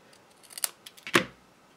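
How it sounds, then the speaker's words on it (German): Scissors snip paper at a slant while an Easter gift package is being made, giving a few quick crisp cuts followed by one louder, longer close snip. "Dann nehme ich mir hier die Schere, schneide mir das hier ein bisschen schräg."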